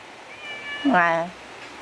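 A house cat meows back in reply, one clear drawn-out meow rising and falling, fairly close and moderately loud against a quiet background.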